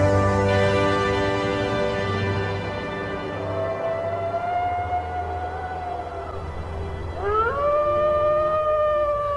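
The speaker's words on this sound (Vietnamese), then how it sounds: "Chó sói chu lên vì nhiều lý do." A wild wolf howls at dusk across an open landscape to keep rivals out of its territory: long, sustained, wavering tones that slowly bend in pitch, then a second howl rises sharply near the end, loud and clear.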